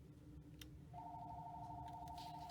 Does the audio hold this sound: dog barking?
no